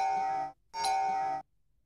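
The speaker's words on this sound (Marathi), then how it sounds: "उठ ना, बेल वाजते." A two-tone electronic doorbell rings indoors, two clear chimes in a row with a short gap between them, loud and close with nothing else heard.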